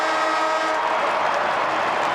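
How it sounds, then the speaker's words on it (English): An end-of-game siren blares at an AFL stadium, St Kilda v Brisbane, 1997, a loud sustained tone held steadily over crowd noise for the whole stretch. "But there's the siren."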